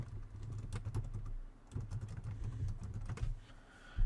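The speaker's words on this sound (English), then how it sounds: "I'm going to type in that information" Typing on a computer keyboard while entering business details during account setup: a quick, fairly quiet run of soft key clicks with a brief pause midway, heard close with no talking.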